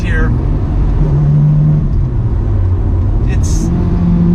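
A car with a lighter flywheel revs during a downshift, a loud, close engine note rising and falling in steady drone with a short blip near the middle.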